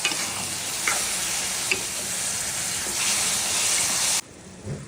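Chopped tomatoes go into a pan of fried onions, setting off a loud continuous sizzle with a few soft stirring scrapes, before the frying noise abruptly drops to a quieter hiss near the end.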